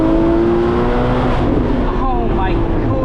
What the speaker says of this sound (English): The way it revs just so freely, man.